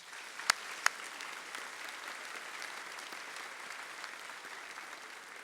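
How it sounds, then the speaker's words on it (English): Distant, soft applause from a crowd at a high school senior assembly, steady throughout with a couple of sharp, close claps near the start. "So let's give these students another nice round of applause."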